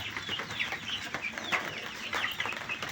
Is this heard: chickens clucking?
yes